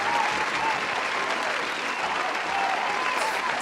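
Steady, dense applause fills the whole stretch, an even wash of clapping from many hands with no clear pauses.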